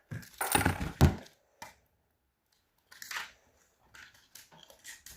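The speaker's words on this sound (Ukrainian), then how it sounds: "давайте її відкриємо на допомогу ножниць" Scissors cut open a toy's plastic packaging: a loud burst of crinkling and snipping up close, then a few isolated clicks and rustles separated by silence, with no speech.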